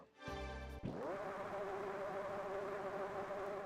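A high-pitched engine revs up sharply, then holds a steady droning whine, like a tuned racing car engine in Gran Turismo 3.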